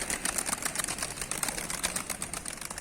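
Pigeons in a village coop, Mardin breed birds with chicks nearby, flap their wings in a rapid, steady clatter of dry feathery beats that runs continuously at close range, with no talking.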